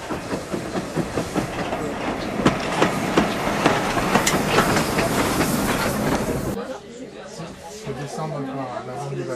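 A railway train set in Scotland being pushed along the track, with a steady rolling clatter and rhythmic wheel clicks, then an abrupt drop to a quieter rumble, while people chatter in the background.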